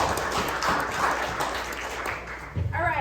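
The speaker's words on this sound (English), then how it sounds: "Please give all of them a big round of applause." Applause from a crowd at a chamber of commerce networking night, steady dense clapping filling most of the moment before a voice cuts in near the end.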